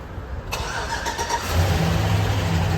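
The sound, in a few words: Toyota Corolla Spacio car engine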